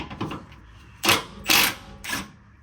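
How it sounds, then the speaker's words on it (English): A ratchet with a 13 mm socket works loose the transmission crossmember bolts on a Toyota/Lexus, giving a few faint clicks followed by three loud, rasping ratchet bursts up close, with no speech. "To loosen the trans crossmember bolts, you need a 13 millimeter socket."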